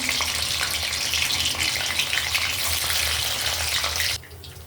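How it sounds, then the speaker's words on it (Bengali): Paneer pieces fry in hot oil, a loud, dense hissing sizzle heard up close that holds steady for about four seconds, then drops away abruptly to quiet. "পনির তেলটা গরম হয়ে গেছে করে আমি পনিরগুলো ভেজে নেব"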